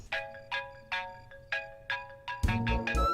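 A phone ringtone sounds for an incoming video call, a melodic repeating tone in evenly spaced bursts, about eight rings, growing fuller and louder near the end.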